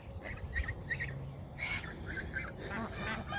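Repeated goose honks, several loud squawking calls at irregular intervals over a busy outdoor background with other fowl.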